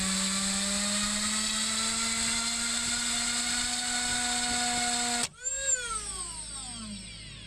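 A freestyle FPV tricopter's motors spin up on 3D printed folding prop hubs to about half throttle, giving a steady high whine with stacked harmonics that cuts off abruptly, then the props spin down with falling pitch.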